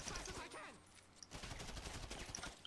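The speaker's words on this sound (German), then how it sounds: "einfach mal ein bisschen neben ihn schießen oder so" Gunfire in GTA 5 Online fired close beside a character: a burst of sharp shots cracks out in quick succession, dense and close, over a busy background of game sound.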